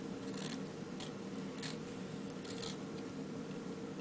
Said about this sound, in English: using my nice sharp scissors, I'm going to trim my vine